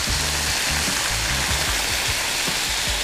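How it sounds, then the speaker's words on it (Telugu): Water is poured into a pan of cooking curry, making a loud continuous rushing splash with sizzling underneath, close and steady for a few seconds. "సో ఇప్పుడు కొద్దిగా వాటర్ యాడ్ చేద్దాం"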